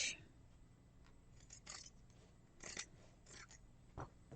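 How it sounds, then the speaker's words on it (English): Pinking shears trim fabric around a curve for a dice pouch, giving soft, faint snips in an irregular series of short crisp bursts close by in a quiet room. "I'm only trimming around the curve."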